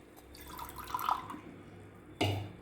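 Water splashes and trickles into a pot of rice and coconut milk for mushroom biryani, a short gentle pour that swells, then a louder slosh near the end.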